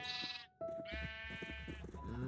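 Sheep in Minecraft let out a couple of close wavering bleats, one brief call followed by a short gap and a longer bleat, with game ambience beneath.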